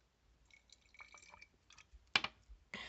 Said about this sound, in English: I'm going to pour a little bit of the witch hazel in my spray bottle